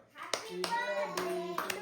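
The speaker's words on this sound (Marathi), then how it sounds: "टाळ्या वाजवा टाळ्या वाजवा" Hands clapping at a home birthday celebration for an elder, a few sharp claps spread across a short moment, mixed with a voice and other voices chattering close by.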